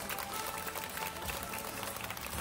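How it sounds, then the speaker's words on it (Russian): Theatre audience applauding at a season-closing event, a steady dense wash of clapping that holds evenly throughout, fairly distant and soft. "Громче, громче, громче аплодисменты."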